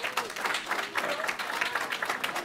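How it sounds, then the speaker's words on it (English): Audience applause at a Durham Board of Education work session, a steady wash of many hands clapping at moderate volume for a few seconds with no clear voices over it. "We're still clapping"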